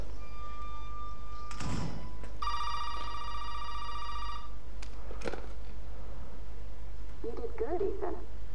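An old-style telephone rings inside a Resident Evil 7 horror game, with a steady electronic ring lasting about two seconds between thumps and creaks, loud and close.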